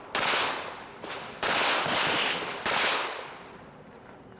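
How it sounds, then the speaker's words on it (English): Pistol shots fired at targets during an IDPA match at Mecklenburg Wildlife Club: three sharp, loud reports with ringing tails, spaced about a second apart, plus a fourth starting at the very end. "Over to this corner and engage that last target with 3 rounds."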